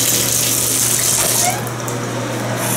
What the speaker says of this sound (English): The water pressure in the shower is a little disappointing.